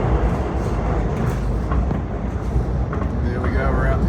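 Steady loud rumble and rattle of a Melbourne underground metro train in motion, heard from inside the carriage as it runs toward Flinders Street, continuous broadband roar with faint background voices.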